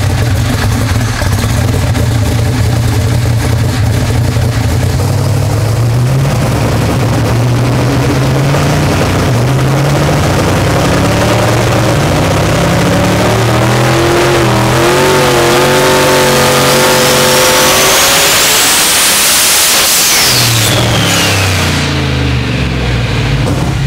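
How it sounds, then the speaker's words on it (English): Engine on a dyno revving hard, loud and continuous, its pitch climbing steadily before bouncing off the rev limiter near the end, then dropping back and rising again. "You can hear this dyno just is not going to load it any harder, and it ran up and hit the rev limiter."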